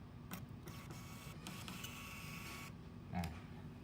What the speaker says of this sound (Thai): แล้วก็เราสามารถทดลองพิมพ์ได้เลย กดทดลองพิมพ์